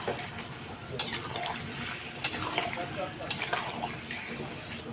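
Rice is stirred in a pot with fried lentil dumplings, making a soft, continuous scraping and rustling marked by a few sharp metallic clinks of the spoon against the pot.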